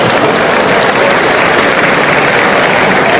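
Continuous crowd applause at the Crufts 2013 dog show as owners reclaim their dogs, a loud, dense and unbroken wash of clapping with no talk over it.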